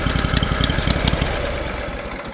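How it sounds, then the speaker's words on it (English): A 1997 Snapper UGT2060H lawn tractor engine idles steadily nearby with a rough, pulsing chug and faint knocking, a small engine that loads up with a dirty carburetor. "after a little bit of idling, it does tend to load up"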